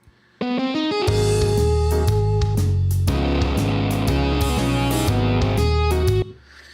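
A distorted electric guitar riff in a pentatonic style plays back from software in a quick run of notes over a heavy low end, loud and continuous before cutting off.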